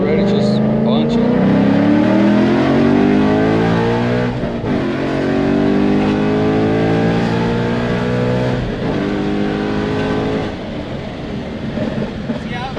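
A Ford Mustang in track mode accelerates hard, its engine note climbing steadily through the revs with a brief dip at a gear change before pulling up again, loud and close inside the car, with voices talking over it.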